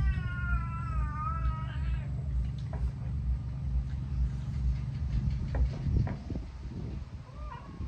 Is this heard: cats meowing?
yes